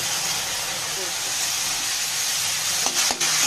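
Tomato, turmeric and ginger-cumin paste sautéing in a pan make a constant steamy hiss and sizzle, with a couple of sharp stirring scrapes near the end.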